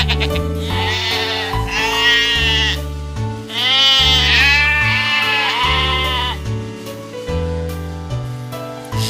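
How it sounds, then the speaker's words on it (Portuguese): Sheep bleating in a series of loud, wavering calls, several long bleats rising and falling over a steady background, with no talking. "ovelha"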